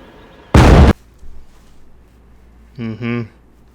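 A sudden loud blast from a bomb hidden in a casket at a funeral in the film Johnny English, a short heavy burst followed by quieter rumble and a brief voice afterward.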